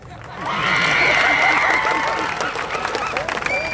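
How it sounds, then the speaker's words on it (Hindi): Crowd at a political public meeting applauding and cheering, swelling quickly into a loud roar with whistles and shouts, then thinning into scattered claps and voices. "जोरदार तालियां बजाओ मंत्री के लिए।"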